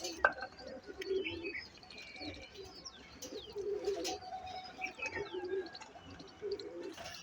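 Blue pigeons cooing close by, soft repeated throaty coos in an uneven rhythm with a few faint chirps and light background noise, no talking.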